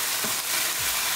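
Onions and tomatoes for a round squash sabzi sizzle loudly in a pan while being stirred, a dense close frying hiss across the whole brief moment.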